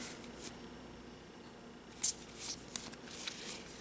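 Wild Assent playing cards handled and shuffled at a quiet table, soft papery riffles and slides with one sharper snap partway through, close and faint with no talking.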